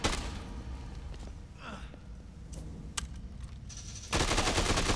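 Gunfire in the zombie video game Dead Rising 2 rattles in quick bursts amid game clatter and thuds, ending in a loud sustained volley; players' voices are faint in the background.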